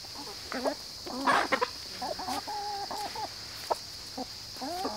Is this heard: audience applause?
no